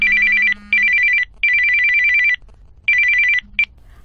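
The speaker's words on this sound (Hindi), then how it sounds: "एक दिन अचानक उसका फोन आया।" Telephone ringing in repeated electronic bursts, a steady high warble in four long rings separated by short gaps, loud and close, with a brief fifth chirp at the end and no talk.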